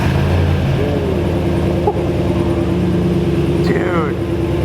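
A pickup truck engine idles steadily after a remote start, a low continuous hum running through the whole stretch, with someone talking over it.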